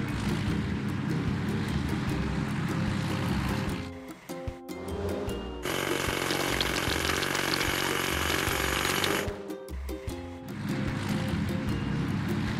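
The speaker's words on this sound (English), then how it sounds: "Hydraulic hammer." A hydraulic hammer in a children's truck video game pounds the biggest rocks with a loud, rapid mechanical hammering, broken by short pauses and surging in a dense burst through the middle before easing back.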